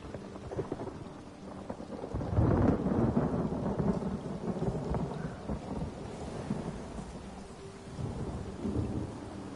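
Rain falls steadily in the Elder Scrolls Online game while thunder rumbles, a low rolling boom swelling near the start and fading, with softer rumbles later and no voices.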